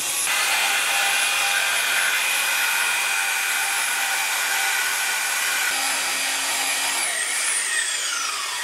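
A power cutting tool slices off the rear section of a Jeep frame, making a loud, continuous high-pitched whine and grinding hiss that holds steady, then shifts pitch near the end.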